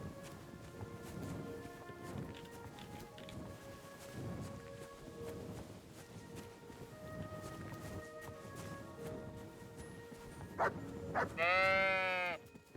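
Sheep bleat in Kingdom Come: Deliverance II, a run of fairly loud bleats over steady game ambience, with one long wavering bleat close by near the end.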